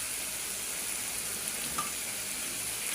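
Small fish dropped into a hot frying pan, giving a steady, close hiss of sizzling oil that holds evenly throughout with no talking.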